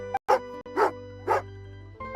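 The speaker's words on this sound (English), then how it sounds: "Oh, angry doggy." An angry dog in the video game Genshin Impact barks three times in an even rhythm, close and clear over a steady low background hum from the game.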